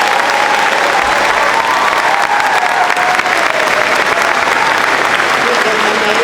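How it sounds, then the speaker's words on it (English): Large school audience at a Veterans Day event applauding fourth graders, a loud, full, sustained roar of clapping that holds steady from start to finish. "Let's give our fourth graders another round of applause."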